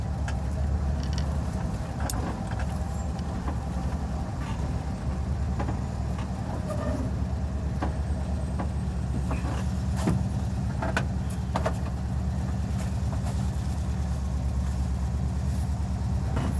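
A Volkswagen Kombi van drives through São Paulo city streets, its engine a low steady rumble with faint rattles and clicks from inside the cabin, distant traffic in the background.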